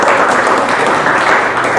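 Steady, dense audience applause fills a school hall during an open debate for student council (OSIS) president and vice-president candidates at SMA Negeri 1 Haurgeulis. The clapping is loud and continuous, with no voices.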